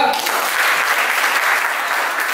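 Loud, dense clapping from a classroom audience for a student group, continuous and close throughout the short burst.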